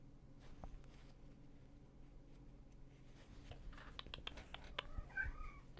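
A cat nearby makes faint, soft sounds against a quiet room hum, including a brief meow-like cry toward the end among small scattered clicks and rustles.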